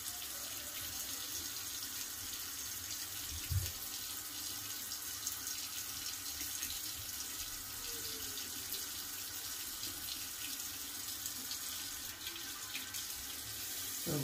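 Water from a bathroom sink tap runs in a steady, continuous stream throughout, moderately close, with faint handling noises and no talk.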